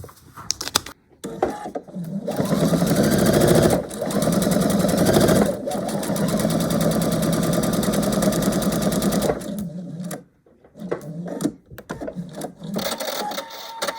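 A sewing machine stitches a foundation-paper-pieced scrap quilt block, a steady mechanical whir running in long bursts of several seconds, broken by short pauses and a few fainter clicks near the start and end.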